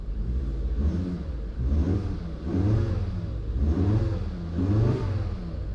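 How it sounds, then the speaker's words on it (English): A salvage-auction car's engine is blipped several times in a row, each rev swelling and falling back to a low idle, fairly close and moderately loud. "I'm going to give it just a little bit of gas to see how the engine responds"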